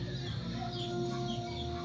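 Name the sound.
chicken clucking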